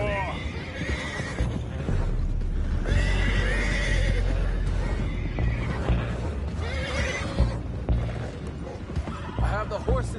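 Horses in Red Dead Redemption 2 neigh and whinny repeatedly over steady clip-clopping hooves and rattling mechanisms, loud and close, with voices talking throughout.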